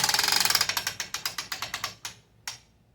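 The ratchet on the tightening bar of a Grace Quilters Evolution Elite quilting frame gives a rapid run of about a dozen sharp metallic clicks that slow down, then two last spaced clicks, close and alone.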